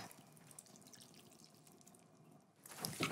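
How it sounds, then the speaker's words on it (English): Dressing of oil, red wine vinegar, black pepper and sugar poured over salmon poke gives a soft, faint liquid trickle close by, swelling into a louder splash at the end. "I'm going to just pour the dressing on top."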